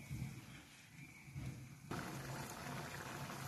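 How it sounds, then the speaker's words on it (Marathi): Water for semolina cutlets comes to a boil in a pot, a faint, continuous bubbling hiss that swells noticeably louder partway through. "हे पहा, उकळी आलेलं आहे।"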